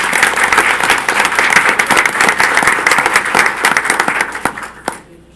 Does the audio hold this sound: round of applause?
yes